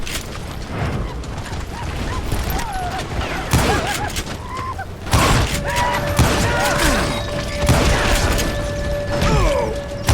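Gunfire erupts in a Wild West shootout from Call of Juarez: Gunslinger, with sharp bursts and impacts at several points over a busy game soundscape and some background voices.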